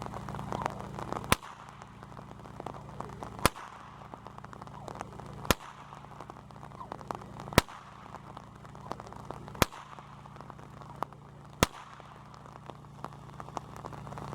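Sharp overhead cracks of a Rattler whip ring out about every two seconds, six in a row, over steady rain pattering in the background.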